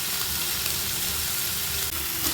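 Tomatoes and chicken masala sauté in a hot pan with a steady, close, crackling sizzle that runs evenly throughout, with no talking.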